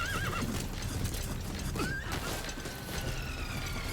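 A horse in Metal Gear Solid V neighs and whinnies twice over steady clip-clopping hooves, with mechanical clicking and ratcheting noises mixed in throughout.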